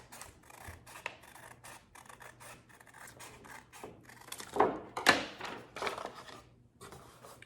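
Scissors cut through white tissue paper while a birthday gift box is being crafted. A run of soft, crisp snips and rustles builds to a couple of louder cuts near the end, with no talking.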